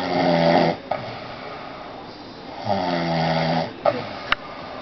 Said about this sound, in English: Snore.